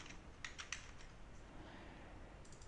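Code being typed on a computer keyboard: a quiet, close patter of key clicks in a short burst, then a pause and a few more taps, with no talking.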